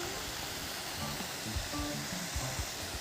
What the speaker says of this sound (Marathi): पाणी पण पाहत कसा पडत.